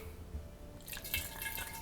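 Melted Dutch Gold honey, warmed in water, is poured for making cherry creme mead; after a quiet start, a soft trickling, splashing pour begins and continues to the end.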